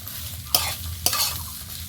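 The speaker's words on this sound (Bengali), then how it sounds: "সব কিছু একসাথে ভালো করে একটু নেড়ে চেড়ে মিশিয়ে নিতে হবে" A mashed boiled-potato mixture is stirred and fried in a pan: two sharp scraping strokes of the spoon cut through a close, continuous sizzle.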